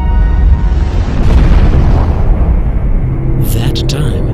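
A loud, deep explosive roar stands in for the Big Bang, a heavy rumbling boom that swells and sustains for several seconds, then thins out with a few sharp crackling bursts near the end.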